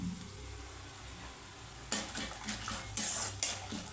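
Cumin seeds and peanuts tempering in hot oil for a lemon rice lunch box dish, sizzling loudly with a sudden burst of crackle and a few sharp stirring clatters against the pan, no talking.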